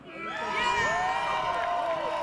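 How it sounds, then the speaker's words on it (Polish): A crowd at a contest cheers and shouts loudly, a dense sustained roar of voices and whoops with children's shrieks rising above it, steady throughout. "po raz kolejny, zróbcie wielki hałas dla Nożyna."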